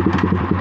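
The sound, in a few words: Yamaha R15 motorcycle engine with SC Project full-system exhaust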